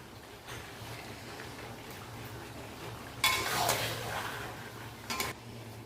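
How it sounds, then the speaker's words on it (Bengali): Chilli chicken with soy sauce stirred in a pan over a steady low sizzle, with two brief louder scrapes of the spoon against the metal. "এবার আমরা নাড়িয়ে নেব"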